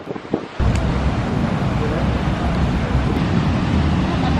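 Wind roars across a microphone on a beach, with steady ocean surf rolling beneath after a brief lull at the start. A voice is faintly heard early on.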